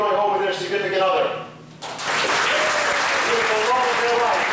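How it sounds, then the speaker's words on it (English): An audience at a comedy magic show bursts into loud, sustained applause and clapping, following a stretch of a performer talking. "Round of applause."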